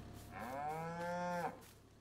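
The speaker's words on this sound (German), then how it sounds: "Und guck mal da, da haben wir unsere Kälbchen." A calf mooing in the farming video game Farming Simulator 22, one sustained, clear moo lasting about a second, rising and then cutting off, over quiet background hum.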